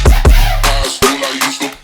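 A Serum synth patch for a remix, drenched in big reverb: loud, close, punchy bass hits and stabs with long washy tails, repeating in a quick, uneven rhythm with no voices.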